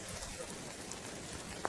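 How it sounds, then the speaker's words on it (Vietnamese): Heavy rain pours down mountain slopes in the highlands, a dense, even hiss throughout with a faint patter of drops and no voices. "Mưa lớn từ thượng nguồn cuốn theo bùn đất ào ào đổ xuống."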